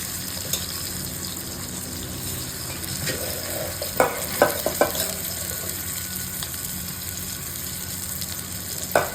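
Slices of elephant foot yam fry on a tawa over a low flame, giving a constant close sizzle. A few sharp scraping clicks cut through it, and no one speaks.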